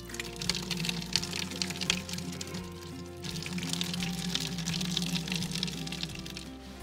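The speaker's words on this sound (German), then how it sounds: "Der Wasserhahn kommt mir irgendwie bekannt vor." Water runs steadily from a kitchen tap in a monastery on Mount Athos, Greece, a broad continuous rush that swells and eases slightly over several seconds, with faint background clatter.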